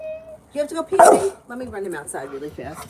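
A puppy yips and barks in short bursts, loudest near the middle, mixed in with someone talking close by through most of the clip.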